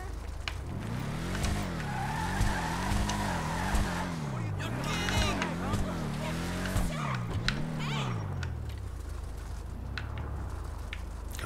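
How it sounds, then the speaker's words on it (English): The Vapid Ellie Mustang, a custom GT500-style muscle car in GTA 5, sounds its engine and exhaust loudly throughout as the revs climb and fall in repeated waves, with tire squeal mixed in partway and a steadier drone toward the end. "The exhaust still has that vibration"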